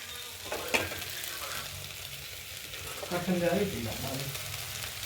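Ginger and garlic sauté in a pan for beef stew, a continuous sizzle with a couple of stirring scrapes and a louder crackling burst near the end, heard close under faint background noise.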